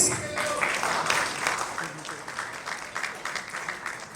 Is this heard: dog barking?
no